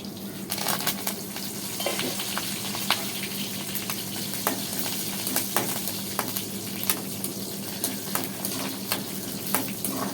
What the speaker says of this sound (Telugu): ఆయిల్ అయితే ఏడైపోయింది కదా ఇంకా ఉల్లిపాయలు అయితే వేసేసుకుంటున్నాను